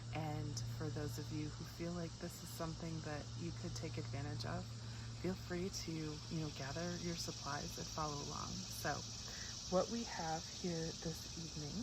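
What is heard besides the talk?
cicadas chirping in the evening background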